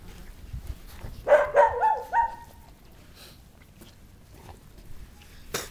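Puppies give a short run of high yelps and whimpers close by, a few quick cries in a row, then quiet with faint background noise.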